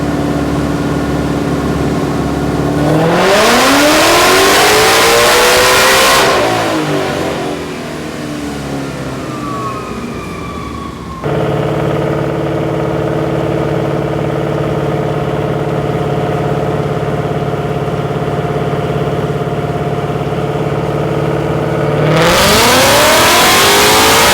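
A Ford Shelby GT500 Mustang on a dyno runs through loud, sweeping rev climbs that rise and fall twice. A long steady high-rpm drone sits between them, with a final rev surge at the end.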